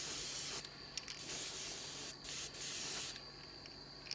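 An airbrush sprays white paint onto a fishing lure, a steady close hiss broken by a few brief pauses as the trigger is released, with no speech.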